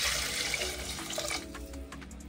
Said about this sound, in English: then I added 2 liters of water